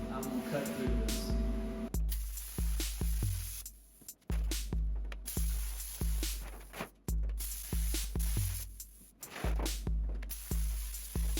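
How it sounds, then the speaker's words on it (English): A plasma cutter slices through a metal drum cut from a dryer in repeated hissing bursts, each roughly half a second, broken by brief pauses and a few longer gaps. "So I'm gonna use my plasma cutter. I'm gonna cut through this."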